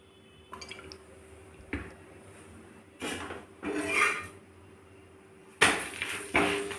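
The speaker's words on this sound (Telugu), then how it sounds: "ఇప్పుడు ఆయిల్ వేసుకోవాలన్నమాట." Oil is added to a chapati cooking on a hot pan, bringing a few soft sizzles and faint metallic clinks between quiet pauses, heard alone and fairly close.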